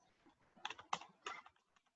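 Quiet keystrokes on a computer keyboard come in a short burst of a few clustered clicks over about two seconds, with no voices.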